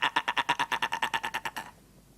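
A rapid run of short, evenly spaced bleats, about fifteen pulses in under two seconds, close and clear, then silence.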